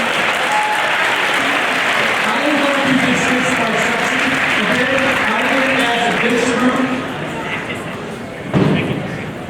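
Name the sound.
audience applause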